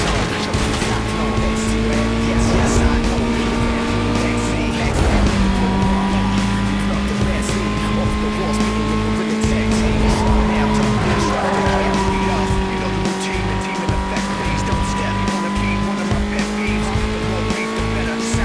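Race cars in the video game Need For Speed Most Wanted (2005) drone with loud, steady engine tones and tire squeal as they skid, while someone talks throughout.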